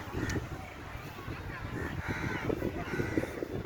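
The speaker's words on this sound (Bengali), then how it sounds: "একটু কান পাতলেই পাখিদের আওয়াজ" Crows cawing in a quiet park in Andaman on an afternoon, several harsh calls at moderate distance over low outdoor ambience, with a voice talking faintly beneath them.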